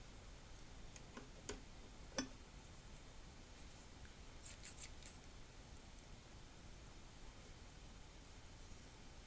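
Non-stick scissors snip the outer edges off a piece of material, making a few faint, sparse clicks and cuts against a quiet hiss, with no speech.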